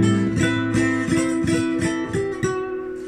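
A flamenco guitar is strummed and plucked up close in a quick rhythmic pattern of bright, ringing chords.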